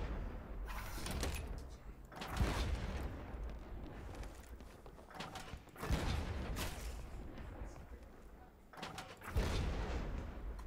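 Ship cannons fire at an enemy vessel in Blazing Sails, three heavy booming volleys spaced a few seconds apart, rolling out over a low continuous rumble of sea and wind.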